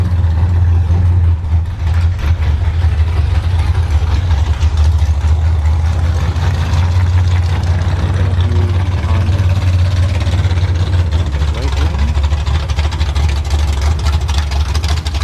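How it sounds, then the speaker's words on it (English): Third-generation Chevrolet Camaro drag car at a drag strip: a loud, steady engine drone runs unbroken for the whole stretch, heavy low rumble with rough mid-range texture and no voices. "Alright, so the third gen Camaro is going to go."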